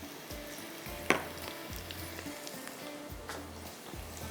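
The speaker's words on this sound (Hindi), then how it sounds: "अब इसको आपने इस तरह से फ्राई कर लेना" Whole cloves, round chilies, cumin and black peppercorns fry in a pan with a steady low sizzle, broken by a sharp clink near the start and faint stirring scrapes throughout.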